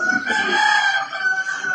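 Rooster crowing loudly nearby in one long drawn-out call, ringing out close at hand with nothing else around it.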